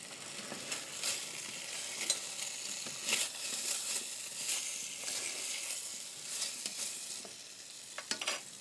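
Rabbit pieces and peppers sizzle steadily in a hot pan, with repeated scraping stirs and tossing clatters punctuating the frying hiss.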